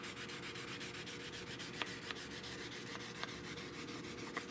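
A wooden rifle stock on a Cooper M38, broken and being repaired, is sanded by hand in rapid, even back-and-forth strokes, a soft continuous rasping rub close by with a few faint knocks.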